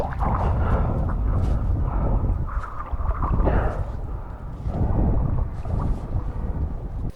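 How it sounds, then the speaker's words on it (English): Boat engine droning continuously underwater during a dive in Irish waters, a steady muffled low rumble with washing water noise throughout. "Hearing the engine of the boat made me very uneasy"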